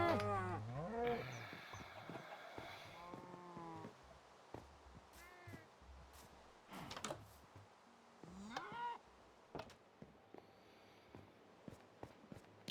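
Cows mooing in the Minecraft video game, several drawn-out bovine calls at varying pitch over about thirteen seconds, some overlapping, with quiet gaps and faint game clicks between, no voices.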